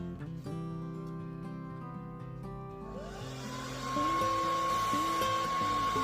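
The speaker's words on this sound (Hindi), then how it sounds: "नेल्स को पल्स मोड पे हेयर ड्रायर को चला के जो है वो इनको सुखा लेना है" A hair dryer on pulse mode blows over plastic press-on nails, a steady close whirring hum that grows louder and breathier partway through, with no talking.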